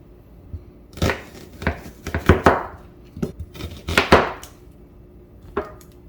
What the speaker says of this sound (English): Get 3 Serrano peppers and slice them into chunks.